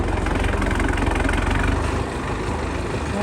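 Diesel tractor engine of 75 horsepower with a 23-gear transmission, running loud and close with a steady low throbbing, then easing slightly in revs near the end.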